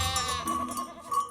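A goat bleats as an audiobook sound effect, a single wavering, nasal cry that rises and falls over about a second, close and fairly loud with no voices.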